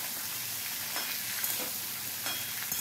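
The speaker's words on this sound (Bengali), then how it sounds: "আলু কুমড়োটাকে নাড়াচাড়া করে একটু ভালো করে ভেজে নিতে হবে" Potatoes and pumpkin sizzle and fry in a pan with five-spice seasoning, with steady close hissing and a few soft scraping stirs, no voices.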